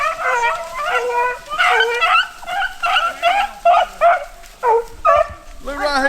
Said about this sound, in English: the dog just got out the truck